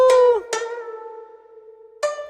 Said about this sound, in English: This is called Kayagum.